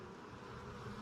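A honey bee in a hive buzzes in a soft, continuous drone close by, with a faint hum and no talking.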